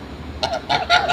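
A goose honks several times in quick succession, loud and close, the harsh nasal calls rising toward the end.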